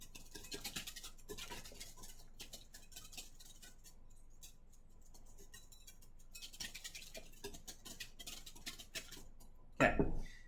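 Wet cornbread batter ingredients being mixed in a bowl, giving soft scraping and clinking utensil strokes in uneven bursts, fairly quiet and close, with no talking.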